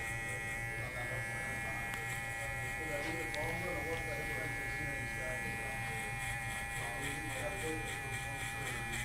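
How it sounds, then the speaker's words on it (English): FXONE electric hair clippers buzz steadily and quietly through curly hair, a continuous close-up motor hum running throughout while someone talks over it. "Motor's pretty quiet, seems to be cutting pretty smooth."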